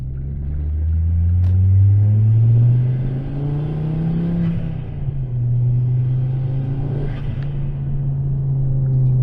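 A 2011 Ford Focus ST with a five-cylinder engine drives under load from inside, its deep, loud engine drone rising and falling in pitch as it pulls through the gears.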